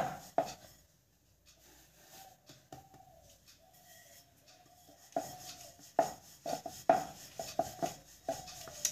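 Rolling pin pressing out stuffed green pea kachori dough on a board, with soft rubbing strokes and several sharper knocks and taps in the second half, fairly quiet and close, with faint birdsong in the background.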